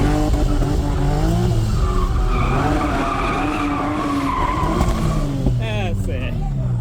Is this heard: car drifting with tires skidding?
yes